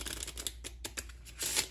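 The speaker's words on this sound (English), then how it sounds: "we'll even give it a shuffle." A deck of playing cards is shuffled close up, a quick run of crisp riffling and flicking bursts that build to a denser flurry at the end, with no talking.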